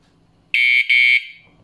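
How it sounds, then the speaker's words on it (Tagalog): An Antusi A8 bicycle taillight alarm sounds a shrill electronic chime, two loud steady beeps back to back with a tiny gap, close and alone over a quiet room. "Ibig sabihin po nun, activated na po yung alarm."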